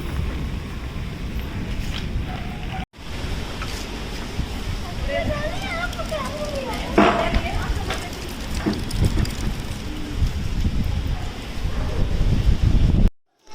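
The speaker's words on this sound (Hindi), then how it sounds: "इतनी तेज आंधी कति कसुती" A strong windstorm with rain roars steadily outdoors as a dense, gusting rush that swells and buffets the microphone, with faint voices underneath.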